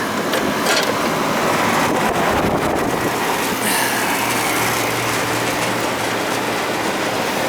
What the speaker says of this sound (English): Compressor just started.